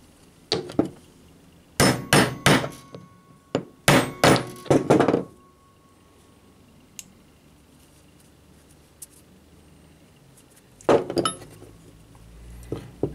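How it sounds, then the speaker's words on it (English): A hammer taps a copper punch held in a vise in a home machine shop while working on a Prince dynamo motor: two quick bursts of three to four sharp metallic clinks, a long quiet pause, then another short burst. "we need to use that piece of copper as a punch and put him in the vise and give him a few taps"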